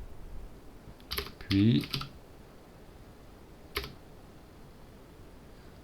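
Computer keyboard keys clatter in short bursts as a keyboard shortcut is typed in a formula editor. A quick cluster of clicks is followed by a lone keystroke, with a brief spoken word in between.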